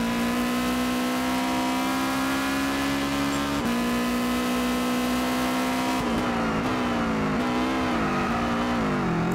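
A BMW or Subaru race car in Gran Turismo 6 drones loudly at high revs around Suzuka, a steady engine note shifting pitch through gear changes and throttle lifts near the end.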